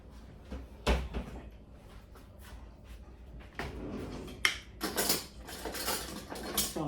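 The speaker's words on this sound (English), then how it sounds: "Let me put this in the trash." Kitchen clatter of a cabinet being opened and closed, with knocks and rustles as something is dropped into the kitchen trash can during home cooking, several sharp bangs amid softer handling noises.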